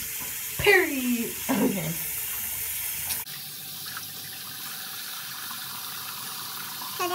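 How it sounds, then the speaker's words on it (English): Tap water runs into a sink while someone washes their face, a steady broadband splashing rush with brief louder splashes early on, under a few short spoken words. "I'm gonna wash my face."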